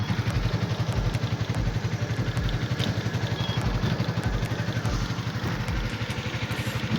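Bajaj RE diesel autorickshaw engine running at a vehicle test, a steady close rhythmic diesel chug with rattling clatter throughout, loud and continuous with no talk.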